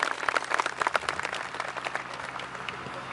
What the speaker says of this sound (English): May we have a round of applause for his welcome